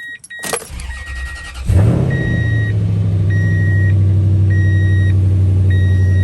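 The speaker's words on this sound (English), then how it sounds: "Cold start." A first-generation Toyota Tundra truck cold-starts. The starter cranks briefly before the engine catches with a loud rev, then settles into a steady, close idle while a warning chime beeps repeatedly in the cab.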